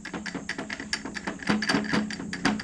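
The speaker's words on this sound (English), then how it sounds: "then you just screw this in" A bolt being screwed into a scooter fork gives rapid close metallic ticking and ratchet-like clicks in an uneven rhythm, with no talking.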